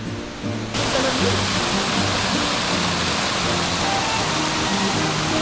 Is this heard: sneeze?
no